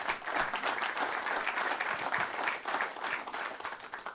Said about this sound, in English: that longevity deserves a round of applause